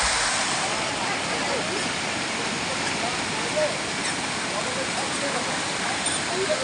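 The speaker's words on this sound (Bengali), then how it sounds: "ঝর্ণা, পঞ্চলিঙ্গেশ্বরের ঝর্ণা। আর এই ব্রিজের ওপর দিয়ে এসে জলটা এখান থেকে পাস হচ্ছে।" Waterfall water at Panchalingeswar pours beneath a bridge in a steady, dense, close rushing roar that holds constant throughout.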